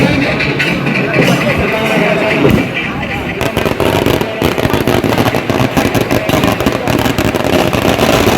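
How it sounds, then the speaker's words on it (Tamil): Rapid crackling bursts of firecrackers popping continuously at close range during a temple consecration festival in Neyveli, loud and dense, with voices talking underneath. "வெடியெல்லாம் வெடிக்க ஆரம்பிச்சிட்டாங்க"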